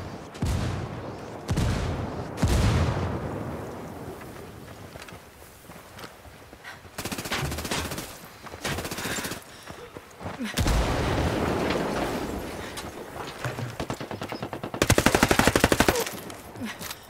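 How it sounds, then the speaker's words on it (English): Rebel fire support in Ghost Recon: Wildlands sounds as bursts of heavy automatic gunfire and booming blasts, loud and intermittent, with some quieter stretches and voices talking now and then. "I called the rebels for some indirect fire"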